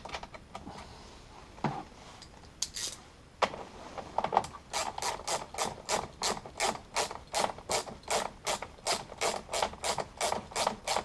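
Ratchet wrench turning a 10 mm nut on the engine-compartment fuse box of a Volvo V70, a few scattered clicks and handling noises at first, then a steady run of rapid, close, crisp ratcheting bursts in an even rhythm.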